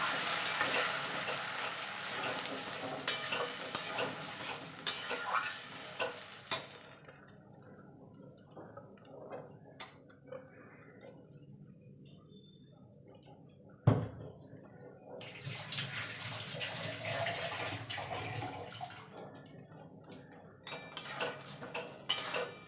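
Ridge gourd paste is stirred into sizzling fried onions in a pan, with a spoon scraping and clinking against the metal over a frying hiss; the sizzle and scraping quiet down midway, then the hiss returns strongly.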